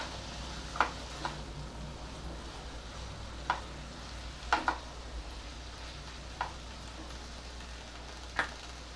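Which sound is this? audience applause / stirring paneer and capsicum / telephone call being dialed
stirring paneer and capsicum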